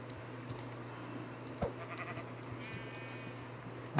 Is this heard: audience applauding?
no